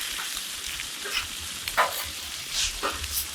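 Meat and vegetables for a Philly cheesesteak sizzling in a pan as they are stirred together, a steady close frying hiss with intermittent scraping and clinking of the utensil, with no talking.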